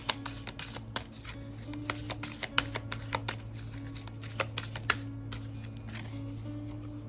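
A deck of cards is shuffled for a card reading, a steady run of close, crisp riffling and flicking bursts that repeats throughout at a moderate level with no talking.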